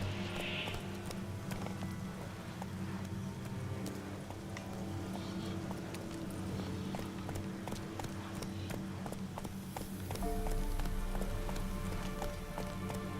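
Roach the horse from The Witcher 3 runs at speed, hooves clip-clopping in a rapid steady beat over a low droning game ambience that swells near the end.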